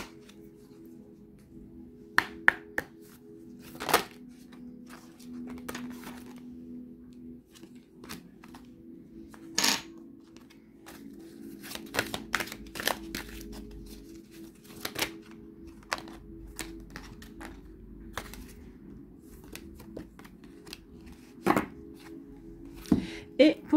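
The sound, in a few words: shuffling and drawing tarot cards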